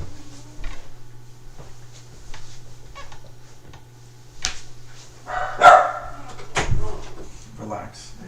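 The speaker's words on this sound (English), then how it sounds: "Oh, dogs are barking." Dogs bark in short, scattered bursts at a home during a live trading stream, some sharp and close, between stretches of quiet room noise and speech.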